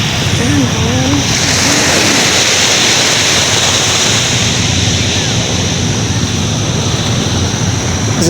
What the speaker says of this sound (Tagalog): Ang ganda po ng dagat.